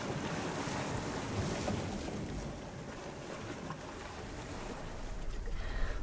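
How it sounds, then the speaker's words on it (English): Powerful, wavy sea on the Atlantic coast of Ireland, with a continuous roar of surf and heavy wind buffeting the microphone, loud and close with no voices. "And the sea, very, very powerful, and very wavy today."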